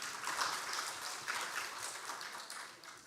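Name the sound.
audience applause for Dr. Fadli Zon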